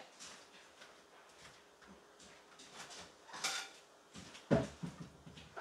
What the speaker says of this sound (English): Now we're going to get another plate and do the same thing.